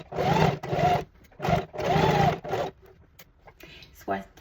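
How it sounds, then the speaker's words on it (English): Sewing machine back stitching through fleece and blanket layers, heard as several short, close bursts of motor hum going back and forth, followed by quieter handling sounds. "we're going to back stitch"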